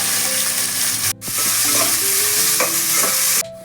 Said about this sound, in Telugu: ఆనియన్, పచ్చిమిర్చి వేసి వేయించుకుందాం.